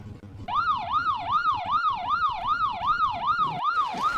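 A police car siren in the BeamNG.drive driving game wails steadily in a fast, rhythmic rising-and-falling pattern, loud and close, starting after a brief quiet lead-in and continuing without talk.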